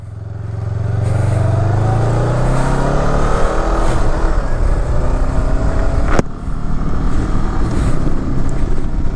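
A motorcycle ridden through traffic accelerates hard, its engine note climbing and then holding a loud, steady roar, with a brief sharp whoosh partway through.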